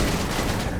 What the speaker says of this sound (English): Let me show you the assault rifle.